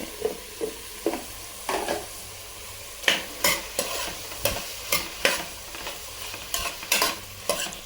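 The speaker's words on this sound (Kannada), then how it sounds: "ಈಗ ಹೆಚ್ಚಿಟ್ಟಿರೋ ತರಕಾರಿ ಎಲ್ಲ ಹಾಕ್ಕೊಳ್ತಾ ಇದ್ದೀನಿ." Chopped vegetables tumbling into a hot pan and being stirred, with irregular scraping clatters of a utensil against metal over a low continuous sizzle, close and moderately loud, no talking.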